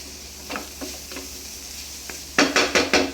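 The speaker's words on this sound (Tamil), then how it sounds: "இதோட ஒயிட் பெப்பர் போட்டு நல்லா மிக்ஸ் பண்ணிடுவோம்" Butter chicken fried rice being stirred in a pan with white pepper added: a few soft scraping strokes at first, then a burst of four loud, rhythmic stirring scrapes with a light sizzle underneath, close by and without talk.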